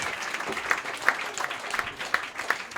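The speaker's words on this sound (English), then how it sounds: "clap it up for both these guys" A comedy roast battle crowd claps steadily and fairly loudly, sustained applause with a few sharper claps standing out.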